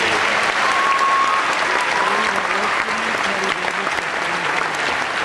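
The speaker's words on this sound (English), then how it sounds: "Give them a round of applause." At a graduation ceremony an audience applauds a choir and orchestra: loud, sustained, dense clapping from a large crowd, with a voice speaking faintly beneath it.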